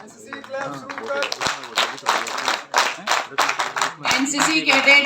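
NCC cadets in the JNU Convention Centre clap together in loud applause, dense uneven bursts of hand claps rising and falling, with voices mixed in among the crowd.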